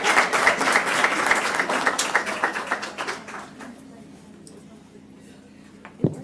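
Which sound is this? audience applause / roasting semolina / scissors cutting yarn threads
audience applause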